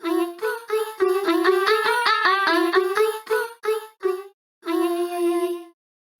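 A synthesizer with its mod wheel moved plays a run of bright, harmonically rich notes that pulse in a wobbling, vibrato-like rhythm, followed by a brief gap and one final sustained tone.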